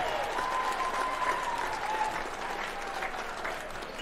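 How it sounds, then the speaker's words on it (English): Arena crowd applauding after a super welterweight boxing championship fight, a steady wash of clapping with scattered shouts that eases slightly toward the end. "one more round of applause for a great championship fight"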